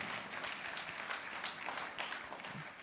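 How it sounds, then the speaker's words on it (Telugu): An audience at a World Grandparents Day jubilee celebration in Malkapuram applauds, a dense, steady patter of many hands that is faint and distant. "గట్టిగా చప్పట్లు కొట్టి ఈ జూబిలీకి వందనాలు తెలియజేస్తాం"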